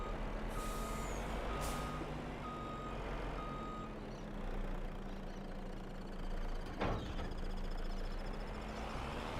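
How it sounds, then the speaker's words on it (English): In the farming game Farming Simulator 25, a roughly 750-horsepower slurry truck backs up, its reversing alarm beeping in steady repeated pulses over a loud continuous engine rumble and hiss, with a brief air-brake burst near the end. "I got this truck because it's about 750 horsepower, so figured it would come in handy for carting a full tank of slurry."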